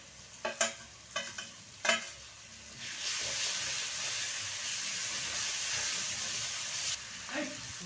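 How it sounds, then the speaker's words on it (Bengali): Garlic and ginger paste hits hot oil with fried onions, a few sharp clatters of a spoon against the pan first, then a loud, steady sizzle and hiss that holds to the end. "এবার আমি রসুন বাটা আর আদা বাটাটা দিয়ে দেবো।"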